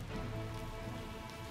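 Rain falling in the video game Hyrule Warriors, a steady soft hiss of drops on surfaces, continuous and fairly quiet with no talking.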